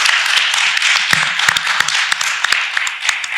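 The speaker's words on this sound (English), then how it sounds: "give Andy a nice round of applause." A short round of applause for a guest on a recovery talk show, a few close claps and taps filling the moment, fairly loud and continuous.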